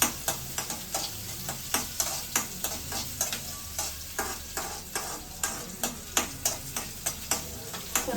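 A tempering for bassaru fries in a pan while a spoon stirs it in quick, regular scraping strokes over a continuous close sizzle.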